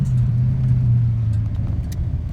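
A Ford Fox-body with a 5.0 engine rolls steadily in third gear at about 25 mph, giving a loud, continuous low rumble that stays smooth and even without any bucking.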